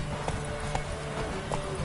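A horse's hooves beat a quick, even galloping rhythm in the game El brujo, fairly soft and steady over a droning background hum.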